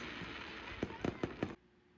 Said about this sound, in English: Then we were blessed by an amazing sunset, followed by spectacular fireworks that Roche Harbor always puts off every 4th of July